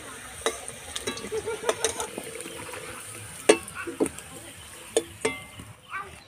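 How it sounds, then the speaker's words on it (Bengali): Potatoes fry in oil for a duck curry while a utensil scrapes and clicks against the pan, lifting them out in irregular, sharp knocks over a low sizzle. "আলুগুলো খুব ভালো করে ভাজা হয়ে গেছে আলুগুলোকে আমি এবার তুলে রাখব"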